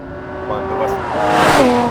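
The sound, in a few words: Lamborghini Murcielago SV engine revving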